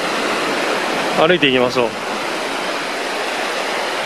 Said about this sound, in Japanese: 川のせせらぎも結構いい音がしますね。